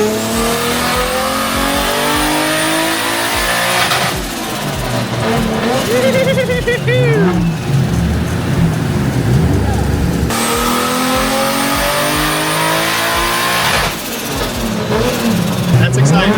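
A Nissan R33 GT-R sedan engine runs loud and close on a dyno, roaring through repeated revving pulls that rise and drop, with wavering whine over the din and brief quieter gaps between runs.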